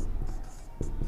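Pen strokes of someone writing an answer by hand, a short run of soft scratchy scribbles close up, with a brief firmer stroke near the end.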